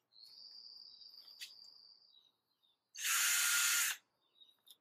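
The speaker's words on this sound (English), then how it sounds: "and drill your second hole." A thin high whine fades out, then a loud power drill runs for about a second in one burst, drilling a hole, before stopping.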